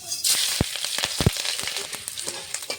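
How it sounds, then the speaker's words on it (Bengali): Dried chillies, bay leaf and panch phoron crackle and sizzle in hot mustard oil in a kadai, a steady close frying hiss with sharp pops scattered through it. "ফোড়নে দেবো শুকনো লঙ্কা, তেজপাতা, পাঁচফোড়ন, কাটা কাঁচা লঙ্কা"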